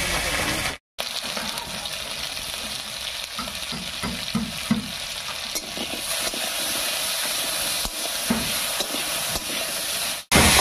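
Cut potatoes frying in a pan over a tempering of spices, with salt and turmeric added, give a loud steady sizzle and hiss. Scraping stirring strokes repeat throughout, close up, and a brief cut interrupts near the start.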